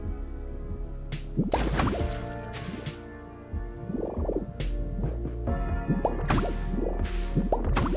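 Water draining away in a video game, heard as a run of wet drips, squishes and gurgling liquid sounds, moderately loud and irregular, over a steady low background hum.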